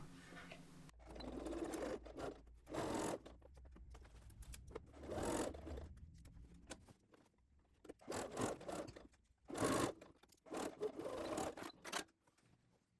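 A sewing machine runs in short bursts while stitching the armholes of a lined dress, with quiet gaps between runs for fabric handling and faint rustling.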